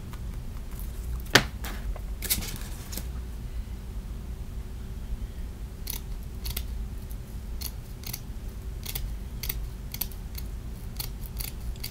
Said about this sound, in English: So I'm just gonna trim the excess off.